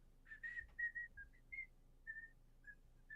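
A person whistles a short tune imitating a character, a faint, close melody of brief pitched notes in a gentle rhythm, heard alone.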